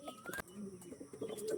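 Pigeons of Andhra, Arshad and Kalanka breeds coo softly while a person handles them one by one, with several low throaty coos and a few sharp rustling handling sounds.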